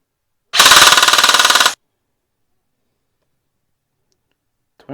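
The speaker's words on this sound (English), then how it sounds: "I'm just going to do a 1 second, let's make it a 2 second burst" An airsoft gun with a budget brushless motor fires one full-auto burst of a bit over a second, a fast, even, loud mechanical rattle that stops abruptly into silence.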